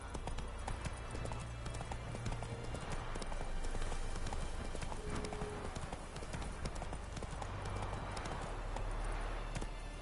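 Roach the horse galloping in The Witcher 3: Wild Hunt, a rapid steady clip-clop of hooves close up throughout, with faint speech briefly underneath.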